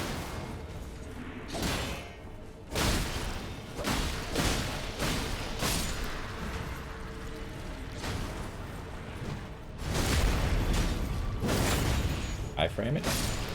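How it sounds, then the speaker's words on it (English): A spell explosion in the video game Elden Ring, heard as repeated booming thumps and whooshing bursts. Game combat noise continues throughout, and a louder burst swells near the end, under intermittent talk. "Okay, it's an explosion."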